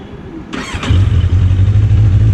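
A four-cylinder superbike engine fires up: a brief starter whir, a sharp catch, then a steady low idle settling in close and loud with no talking.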